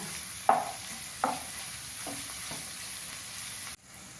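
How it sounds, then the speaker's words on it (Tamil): Sliced onions sizzle softly in a pan for egg gravy under a constant frying hiss, with three or four sharp scraping stirs, then the sound cuts off abruptly. "பெரிய வெங்காயம் ரெண்டு நறுக்கி வச்சுருக்கேன் அதான் இப்போ வதக்கிறேன்"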